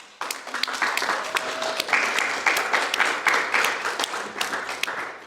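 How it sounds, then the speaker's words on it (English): Audience applause at the DAAAS Urban Ghana photography exhibition in the Vitrine gallery: a crisp burst of many hands clapping that swells quickly and holds steady for several seconds. "So a round of applause, please."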